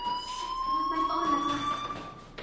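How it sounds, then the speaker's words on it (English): In the video game Life is Strange, a school fire alarm rings as a steady, shrill electronic tone that holds without pause, with a voice briefly heard beneath it. "Hey, do you hear that fire alarm?"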